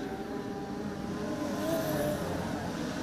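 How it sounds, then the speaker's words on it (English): Production sedan race car at Grafton Speedway dirt track, its engine a distant, faint rising drone under crowd and ambient noise, swelling briefly as it powers down the back straight. "Josh Boyd, absolutely monumental down the back straightaway"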